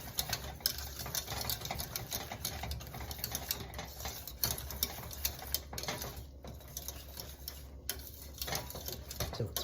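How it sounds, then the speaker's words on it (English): Tomato paste whisked into a creamy corn sauce off the heat, a continuous rapid patter of whisk strokes against the pan, steady and close throughout. "we're going to turn off the heat and whisk this in"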